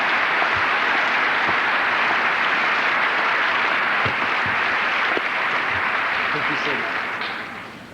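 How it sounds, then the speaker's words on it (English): Sustained applause from a high school commencement audience honoring honor students at a 1984 graduation, a dense steady clapping that fills the hall for about eight seconds before tapering off at the end. "let's give them a round of applause"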